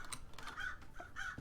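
Crows caw in Paradise Killer, several quick, faint calls stacked over a low background hum, with a few soft clicks mixed in.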